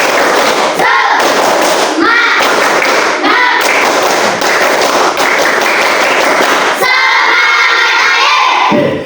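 Children clapping the rhythmic 'tepuk semangat' chant together, loud and close, with repeated bursts of sharp claps and a few voices calling along between the clap patterns.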